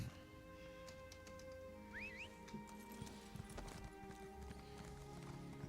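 Horse hooves clip-clop steadily in the fantasy game Elder Scrolls Online, a continuous mid-level trot under ambient game music, with a brief whinny-like sweep near the start.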